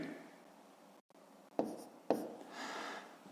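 Digits written by hand during a long-division exercise: two sharp, brief strokes of pen or chalk, close and crisp, against quiet background noise.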